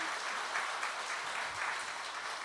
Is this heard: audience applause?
yes